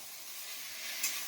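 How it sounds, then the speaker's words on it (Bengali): Onions fry in fish oil in a pan, a soft, steady hiss of sizzling, faint and continuous, with one brief brighter spit near the end and no voices. "এখানে হচ্ছে আমার পেঁয়াজগুলো মাছের তেল দিয়ে ভাজা হচ্ছে"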